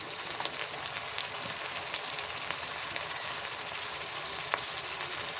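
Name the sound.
garlic paste and salt added to sizzling pan for koi fish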